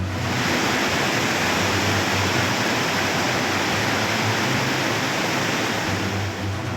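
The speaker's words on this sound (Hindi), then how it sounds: "दुकान के भीतर से पानी निकल रहा है और पानी का फोर्स देखिए" Floodwater from the Chamoli flood gushing forcefully out from inside a shop, a loud, continuous roaring rush of water close by, steady for the whole stretch with no voices.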